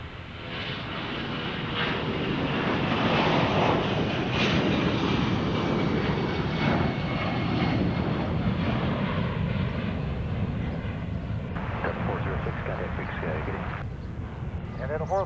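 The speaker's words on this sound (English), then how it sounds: "Good old 757 coming right into your living room as it takes off back to Atlanta." Boeing 757 jet taking off, a loud broad roar building and holding close by before thinning slightly, with voices talking over the engine noise.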